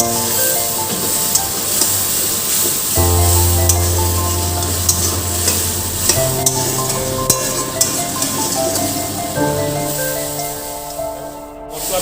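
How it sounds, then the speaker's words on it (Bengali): Spices are stirred and fried in a pan while pabda fish curry is being cooked: a loud, constant sizzle with scraping turns of the spoon, over a background of sustained music. "এই যখন মশলা দিলাম, যে একটু যে নাড়াকাটা করছি।"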